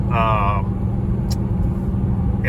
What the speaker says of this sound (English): And I actually drive the car in winter mode most of the time because it will start in second gear.